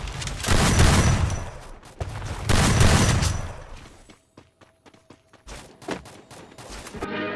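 Video game gunfire: bursts of rapid shots and rattling volleys, loud at first and then thinning into scattered single cracks, with a person's excited voice heard over parts of it.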